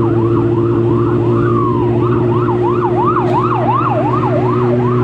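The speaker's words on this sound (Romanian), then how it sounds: "se aude o salvare" An emergency vehicle siren, ambulance or fire engine, wails in a repeating rising and falling pattern over a steady low vehicle drone, loud and close, with a brief faster sweep partway through.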